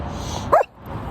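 A single short, sharp puppy bark, close by, standing out briefly against a quiet outdoor background.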